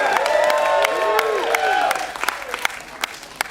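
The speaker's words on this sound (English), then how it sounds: "See, you're applauding the Sam Kinison you know and love." Comedy club crowd at a Sam Kinison-themed stand-up set cheers and applauds loudly, with whoops and a sustained tone over the first two seconds, then thins to scattered claps.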